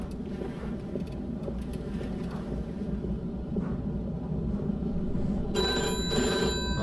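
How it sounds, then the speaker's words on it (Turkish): A telephone rings in the Mafia 2 video game, a steady electronic ring over a dense, constant background of game ambience and low engine-like rumble, with no talking. "Ben şu telefonlara cevap vermekten de sıkıldım vallahi."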